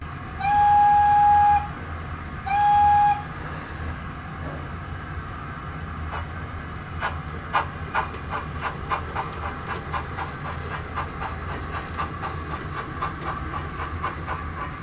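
A model train locomotive run with an NCE PowerCab controller gives two loud whistle blasts, then a chuffing steam effect that speeds up into a steady rhythmic beat with a constant hiss underneath, with no talking.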